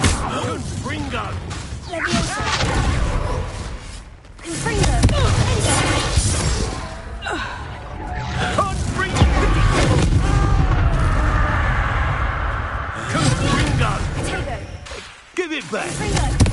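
The Confringo explosive spell goes off in the Hogwarts Legacy video game, with repeated booming blasts and crashing impacts rolling through a busy, dense stretch of game sound alongside speaking voices.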